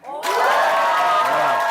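An audience at an Amway business event bursts into loud, sustained cheering and shouting that swells within a fraction of a second and holds at full strength throughout.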